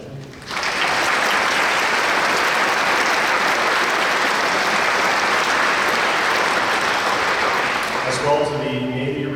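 A large crowd at a Blue Angels change of command ceremony claps steadily and loudly for a Navy chief who sang the national anthem. The applause holds for about eight seconds, then thins as a band begins playing.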